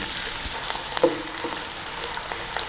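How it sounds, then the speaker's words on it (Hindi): Two medium onions frying in hot oil in a kadhai, a steady close sizzle and crackle with a few soft stirring clicks, no talk. "ऑयल जो गर्म हो चुका है, अब हम इसके अंदर 2 मीडियम प्याज"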